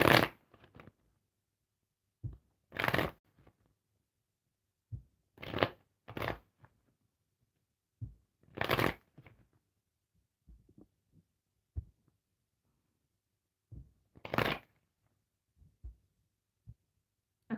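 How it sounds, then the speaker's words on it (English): Tarot cards shuffled by hand, close and quiet: short scattered riffles and soft slaps separated by stretches of silence across the whole stretch. "I'll start shuffling."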